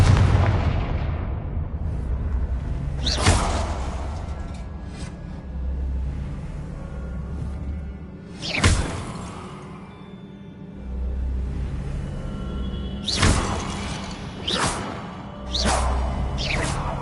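In Hogwarts Legacy, the Confringo fire spell bursts in a few heavy booming blasts with whooshes, spaced several seconds apart over a low rumbling game ambience.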